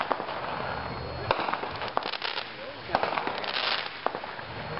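Spirit of 76 Shockers 7-shot fireworks, four fired together, crackle and pop in a dense, continuous barrage punctuated by sharper bangs near 1.3, 2, 3 and 4.3 seconds, loud and close with a hiss of bursts filling the gaps.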